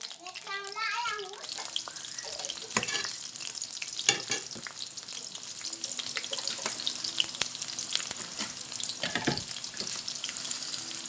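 Garlic and green chilli fry in oil in a pan for momo filling. Steady close sizzling is broken by stirring scrapes, and brief voices come through in the background.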